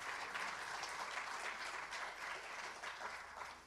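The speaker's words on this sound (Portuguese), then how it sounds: "Quero um aplauso bem forte ao Senhor." A church congregation applauding together for the Lord during a sermon, a steady wash of many hands clapping at fairly low level, sustained and even with no talk over it.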